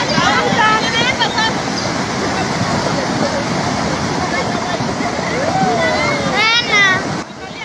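Steady rushing water flows without pause, loud and close, with a few faint chirps rising above it near the end.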